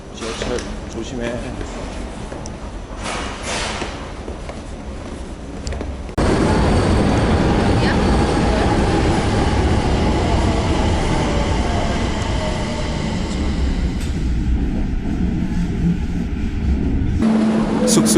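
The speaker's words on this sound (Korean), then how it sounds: "지하철 조심해." A Barcelona metro train rumbles loudly and steadily through the tunnel, with a sharp jump in volume as it speeds up, a rushing roar and faint wheel squeal near the end. Voices talk over part of it.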